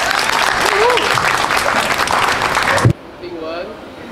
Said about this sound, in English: Let's give Ting Wen a round of applause.